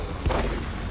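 A single gunshot fired in the horror video game The Evil Within, a deep booming crack rising briefly over a dense, rumbling ambient background.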